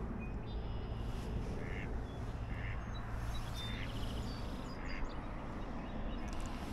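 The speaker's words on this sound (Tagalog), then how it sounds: "Yan, may mga duck, swan." Ducks quack in short bursts over steady outdoor ambience near a pond with swans, with a low continuous rumble underneath and the calls moderately distant.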